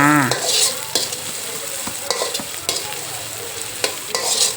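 Chili and garlic stir-fried with baby corn and pork crackle loudly in a pan, broken by frequent close spatula scrapes and clatters against the metal.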